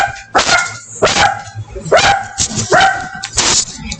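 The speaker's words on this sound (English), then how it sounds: "sorry, my dogs are barking" Several dogs bark indoors in quick, loud bursts, about five sharp barks spaced roughly half a second apart with some yipping in between, close to the microphone.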